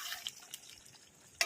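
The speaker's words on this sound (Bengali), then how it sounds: "এবার এটা আমি আরেকটু লাস্টবার নেড়ে নেবো" A spoon scrapes and clicks faintly through chicken and potato curry (aloo dum) in a pan during a final stir. There are a few soft, wet taps and a sharper clink at the end.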